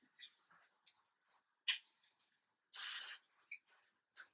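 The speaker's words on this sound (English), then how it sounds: "I always just kind of spray like a light amount of hairspray just at the root." Several short hissing bursts from an aerosol hairspray can, including one longer steady spray, with quiet pauses between them.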